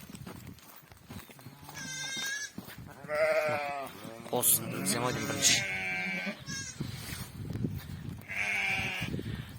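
Goats and a newborn kid bleat in a rural livestock yard, wavering calls rising and falling near the microphone, interleaved with a person talking nearby.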